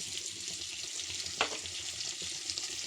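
Amul paneer shallow frying in a pan, a steady close crackling sizzle throughout with one brief sharper spit, no talking.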